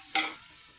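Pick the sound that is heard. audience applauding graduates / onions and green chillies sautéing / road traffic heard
onions and green chillies sautéing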